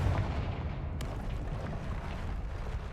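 A fiery Confringo spell explosion in the Hogwarts Legacy video game produces a deep, rumbling boom that rolls on with a low, sustained roar and no voices over it.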